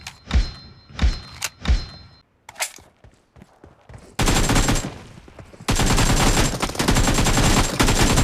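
Gunfire in the mobile game PUBG Mobile: a few heavy single shots and thuds, then sustained loud bursts of rapid automatic fire, close and dense.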